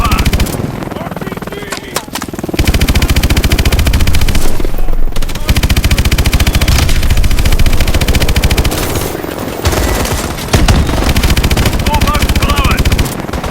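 Sustained heavy gunfire in Call of Duty: Advanced Warfare, loud dense machine-gun bursts pounding almost without pause amid battle noise, with brief gaps and shouted voices mixed in.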